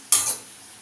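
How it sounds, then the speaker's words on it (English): A single quick scraping stir through white sauce pasta with added pepper in a pan, one bright brushing swish up close that fades at once to quiet. "Let's mix it."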